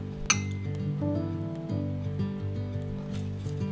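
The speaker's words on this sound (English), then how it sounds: "Whisk well until the sugar is completely dissolved." Whisk stirring tonkatsu sauce of Worcestershire sauce, sugar, oyster sauce and ketchup in a small bowl, quick faint clinks and scraping against the bowl over a low steady hum.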